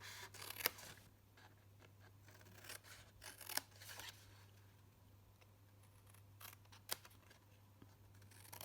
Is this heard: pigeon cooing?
no